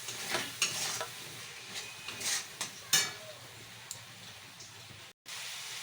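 Powdered spices stir-fried with a little water in a pan for an egg curry, soft sizzling under several short scraping stirs of a spoon, close and fairly quiet.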